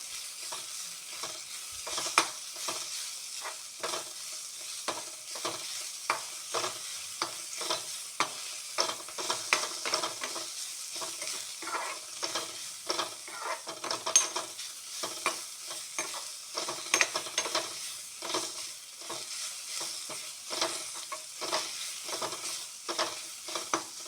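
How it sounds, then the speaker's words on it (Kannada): Frying in a pan while making a Kannada tambuli: a quiet, steady crackling sizzle with dense, irregular pops continuing throughout, and no speech. "ಚಟಪಟ ಚಟಪಟ ಅಂತ ಆಗೋಗುತ್ತೆ ಬೇಗ, ಫಾಸ್ಟಾಗಿ"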